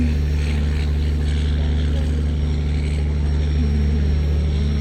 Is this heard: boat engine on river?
yes